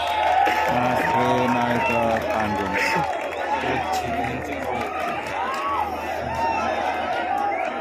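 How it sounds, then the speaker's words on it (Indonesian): Stage show audience welcoming performer Mas Dewo with steady clapping and cheering, a busy crowd wash under a voice announcing over loudspeaker, with bursts of chatter throughout. "Saya minta tepuk tangan yang meriah"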